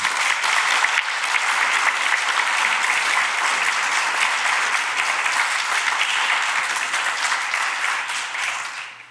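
Sustained applause from an audience, dense and even throughout, tapering off at the very end.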